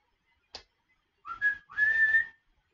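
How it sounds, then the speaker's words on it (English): A person whistles a few short rising notes: a brief chirp, then two longer tones with a slight pause between, clear and close with no talking. "I'm going to try and not whistle like that"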